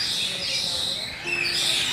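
Small birds chirp and tweet in a steady high twitter through the whole stretch, moderately close, with a faint voice-like murmur underneath.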